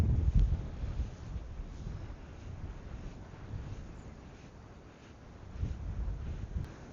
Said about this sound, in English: the wind had died down for a little bit, that's why I came back out here, but it's picked right up again.